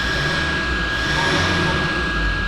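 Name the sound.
Toyota Prado 1KD-FTV diesel engine revved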